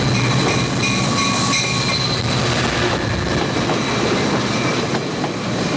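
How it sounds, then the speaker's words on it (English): An Amtrak Silver Meteor passenger train pulls into the Orlando station in 1983 with loud, continuous rail rumble and squealing wheels, steady and close with no voices. "It's 12:25 and AMTRAK Silver Meteor is just pulling into the Orlando train station."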